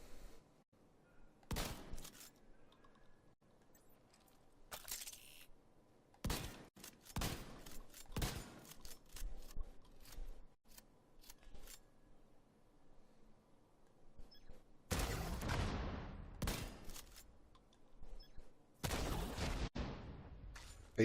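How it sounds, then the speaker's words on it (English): Shotgun firing in Tom Clancy's The Division 2, with sharp, loud game blasts spaced irregularly among quieter stretches and some rapid clusters of shots. "And if we use the shotgun"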